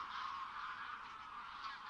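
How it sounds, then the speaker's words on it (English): Geese honk continuously in a steady, moderately distant chorus, overlapping calls forming a constant nasal clamour with no talking. "the sky is full of wild geese"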